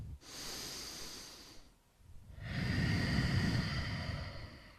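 Slow, controlled breathing during a yoga workout: a long audible inhale, a brief pause, then a longer, heavier exhale, close and alone.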